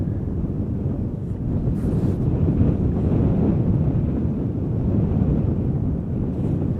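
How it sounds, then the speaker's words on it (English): Wind buffeting a microphone beside a runway at Schiphol Airport, a loud steady low rumble with gusty swells throughout and no voices. "The wind is blowing predominantly from the west-northwest."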